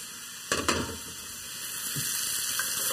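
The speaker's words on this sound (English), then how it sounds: "I want to give these peppers and things a good stir around" Peppers and other vegetables are stirred around a hot frying pan, with two quick scraping clatters early on over a low, steady sizzle that carries on alone to the end.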